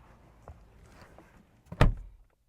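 The door of a 2023 Genesis G80 Electrified, a soft-close EV door, shuts with one solid, dull thunk after a brief quiet lead-in, with no talking.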